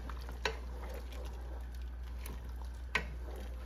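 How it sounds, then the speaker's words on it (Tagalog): A spoon stirring pork blood into dinuguan in a pot, a soft bubbling simmer under a low hum, with two distinct scraping clinks against the pot, faint and close. "Kaya halo na natin yung pork blood."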